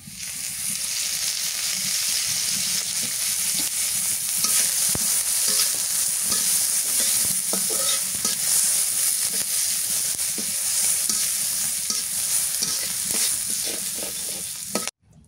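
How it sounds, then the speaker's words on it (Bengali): Onions fry in hot mustard oil with a constant close sizzle and hiss, broken by scraping stirs, then the sound cuts off abruptly at the end. "সরিষার তেল দিয়ে দিই। পেঁয়াজটা আগে একটু গামাই নিলাম।"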